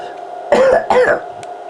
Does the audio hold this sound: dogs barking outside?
no